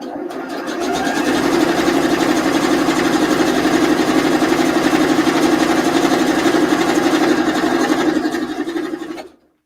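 A sewing machine stitching fabric with a steady, fast mechanical hum and rapid needle chatter, running continuously for about nine seconds before stopping abruptly.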